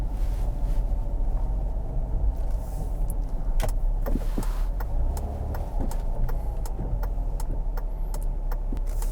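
A 2005 Ford Escape driving through a snowstorm, steady low engine and road rumble inside the cabin with occasional clicks and knocks, no talking.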